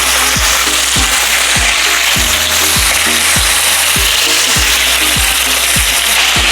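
Pork steak browning in a hot frying pan, a loud steady sizzle filling the clip, with regular knocks of the pan or utensil repeating about every half second.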